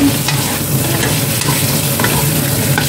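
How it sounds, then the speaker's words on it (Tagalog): Chicken wings stir-frying in a pan, a steady loud sizzle with scraping and stirring throughout, no talking. "Stir-fry lang natin konti"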